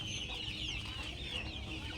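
Chickens on a small village poultry farm cluck and chirp continuously over a steady outdoor background, with no voices.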